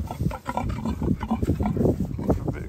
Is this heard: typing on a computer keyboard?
no